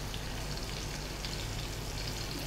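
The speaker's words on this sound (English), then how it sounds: "Saute it for few seconds." Chopped onion sizzling in hot oil in a pan while making a paneer curry, a steady close crackle and hiss that holds evenly throughout with no talking.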